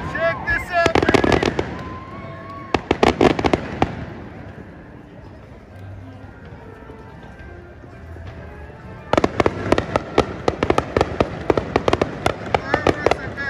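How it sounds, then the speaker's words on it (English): Fireworks burst over Avengers Campus at Disneyland Resort, loud crackling volleys of rapid bangs in two clusters separated by a quieter lull, with people cheering and talking. "Fireworks are back!"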